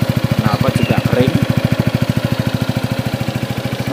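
A 2018 Yamaha X-MAX scooter engine idles with a fast, even, steady putter close up, the single-cylinder pulses regular and smooth while someone talks briefly over it.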